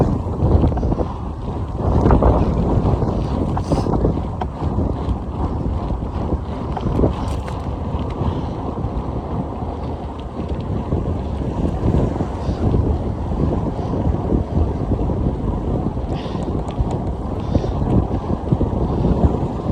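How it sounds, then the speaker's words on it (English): Strong wind buffeting the microphone during a long outdoor ride, a loud continuous rumbling roar with gusty surges throughout, close and dominant with no talking. "rate at which this wind is blowing, it's gonna blow us the other way on the way back"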